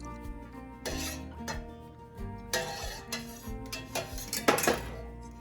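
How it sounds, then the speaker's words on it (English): Culture is stirred into raw milk in a pot with an up-and-down motion for fresh mozzarella, giving repeated metallic clinks and scrapes of utensil against the pot at an uneven rhythm, fairly close. "And then you want to stir this for a good minute."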